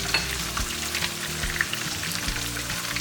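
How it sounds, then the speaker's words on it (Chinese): Chicken pieces pan-fry in hot oil until golden on both sides, giving a continuous close sizzle and crackle with occasional soft stirring scrapes, heard alone without voices. "煎到像这样两面都金黄以后就可以拿出来了"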